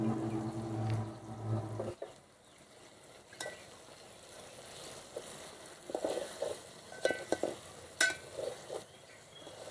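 Stuffed brinjals with masala fry in oil for a traditional Marathwada village dish cooked on a wood-fired stove. A steady sizzle plays with intermittent scraping and clinking of stirring, after a short musical opening.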